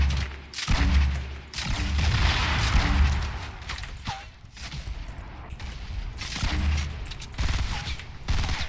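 Rapid video-game gunfire in bursting, crackling volleys that come in dense waves with short gaps, loud and close, with scattered electronic game effects between them.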